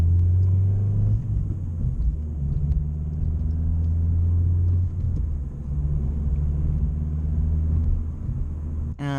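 A Vauxhall Corsa E 1.4 litre 75 bhp hatchback revs up under acceleration, its engine drone a steady, loud, close-up rumble from inside the cabin that rises in pitch, then eases near the end.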